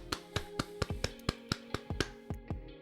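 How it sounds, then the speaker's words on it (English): Podcast hosts give a soft round of applause, about a dozen separate claps or hand taps spaced evenly across a few seconds, close to the microphone and unaccompanied. "Soft round of applause."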